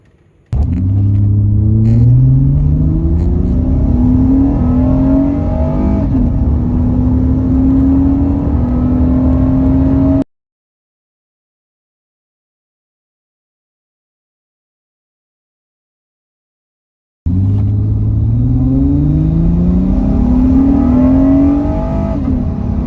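Acura MDX fitted with a short ram intake accelerating hard from 0 to 60 mph, a loud continuous engine roar with rising pitch as it climbs through the gears, cut off by a silent gap and then resuming.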